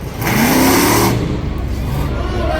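Monster truck engine revving hard as it drives at a stack of cars during a live monster truck event, a loud roaring surge that eases into a lower rumble, with an announcer talking over it.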